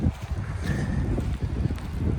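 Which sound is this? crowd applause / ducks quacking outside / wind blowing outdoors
wind blowing outdoors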